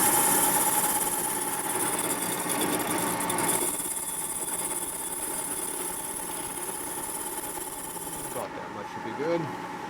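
A machine cutting a chamfer on a top-end part of a 1958 Harley-Davidson Panhead 74ci motorcycle engine, giving a steady, loud whirring drone that eases near the end as a voice speaks.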